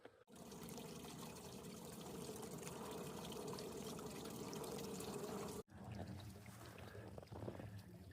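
Water from a Freeze Miser valve on a frozen water line in sub-zero cold, a steady faint hiss and trickle of running, dripping water with outdoor ambience, briefly cut partway through.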